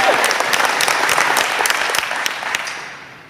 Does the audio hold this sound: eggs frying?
no